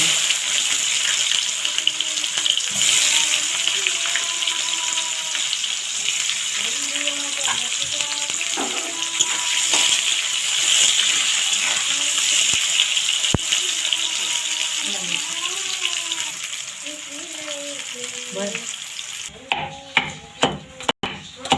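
Onions dropped into hot oil with whole cumin in a pan for chicken curry sizzle and fry in a steady hiss, with someone speaking over it and a few clinks of a spoon near the end.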